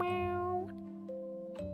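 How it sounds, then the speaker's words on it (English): A cat gives a short, clear, close meow, a drawn-out tonal cry that dips in pitch partway through. "Starts meowing."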